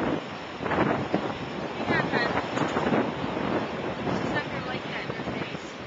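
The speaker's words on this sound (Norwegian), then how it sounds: "nå blåser det." Steady strong wind buffets the microphone in a continuous roaring rush during snowy sledding, with a few faint voices buried underneath.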